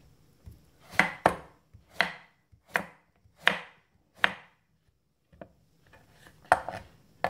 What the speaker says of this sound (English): we will cut them in square pieces